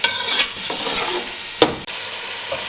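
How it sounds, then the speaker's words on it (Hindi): Chickpeas and yogurt fried in a pan over a medium flame, with a steady close sizzle throughout, a spoon scraping and stirring in bursts, and a couple of sharper clatters against the pan. "मीडियम फ्लेम पे 3 से 4 मिनट इसकी अच्छे से भुनाई करेंगे।"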